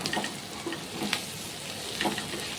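Onions sauté in a pan for onion chutney, a soft steady sizzle and crackle at moderate level with faint stirring scrapes now and then.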